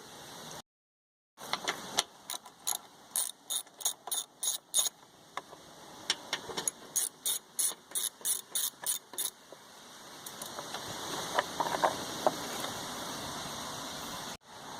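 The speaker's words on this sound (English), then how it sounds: "it's a 10mm socket you need to use to get out both bolts" A ratchet on a 10mm socket works bolts loose under a plastic cover on a John Deere lawn tractor, giving close rhythmic clicking bursts, fast repeated ticks with brief pauses and a grinding turn near the end.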